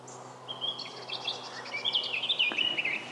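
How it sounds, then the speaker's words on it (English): Continuous high, twittering birdsong with trills and chirps, moderately near, over a soft steady background hiss. "Just listen to the birdsong."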